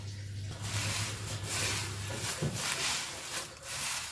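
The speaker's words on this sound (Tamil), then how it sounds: "இப்போ மறுபடியும் லேசாக வறுக்கிறேன் பாருங்கள்" Dried curry leaves are lightly roasted and stirred in a pan, giving a soft, continuous rustling and scraping with a few brief crackles, heard alone at low volume with no talk.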